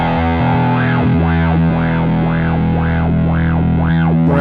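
A Beetronics Zzombee effects pedal sweeps its LFO over a distorted instrument signal, producing loud, continuous rhythmic wah-like swoops that rise and fall about twice per second.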